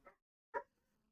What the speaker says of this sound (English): if you can hear my dog barking in the background